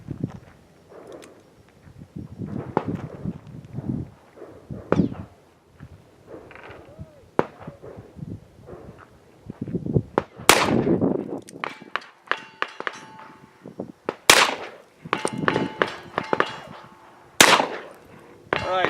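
Pistol shots from .44 Special hand loads and factory ammunition ring out at an outdoor range as a series of sharp cracks. They come more densely in the second half, mixed with clanks and movement noise.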